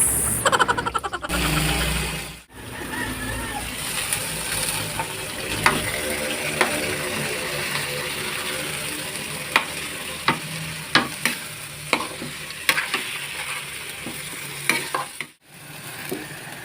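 Squid sautéing in a pan makes a continuous loud sizzle and frying hiss, with scattered sharp clicks from stirring and a few brief dips, close and without talk.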